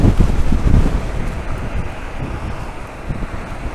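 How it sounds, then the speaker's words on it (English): Steady blustery wind roars across the microphone while riding a Super Soco TSX electric motorcycle around Lowestoft, a loud low rumble that swells and eases in gusts, strongest at the start, with no voices. "I think the wind is a bit heavier at times"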